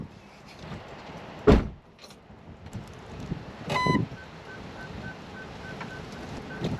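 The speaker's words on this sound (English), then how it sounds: "I'm walking in front of the sensors. They're all going off." A thin electronic beep from a Range Rover Sport L320's parking sensors repeats at a steady pace over a quiet background, following a loud thump and a brief rattling clunk.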